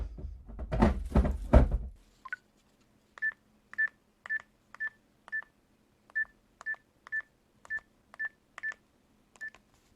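A mobile phone number is keyed in as a quick string of about a dozen evenly spaced electronic beeps, each short and clear, following a brief shuffle and thump of handling.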